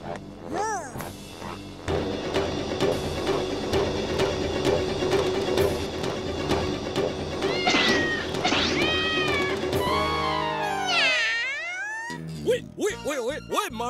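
Cartoon cats meow and caterwaul repeatedly over a busy music bed, with several drawn-out, rising and falling cries crowding together near the end of a Hindi animated scene.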